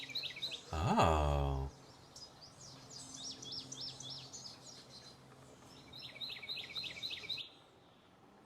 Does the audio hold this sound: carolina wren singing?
yes